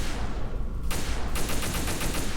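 Gunfire aimed at a flag in Metal Gear Solid 2: a burst of fairly loud shots with a quick rattling rhythm that sharpens into rapid repeated cracks partway through, with no voices.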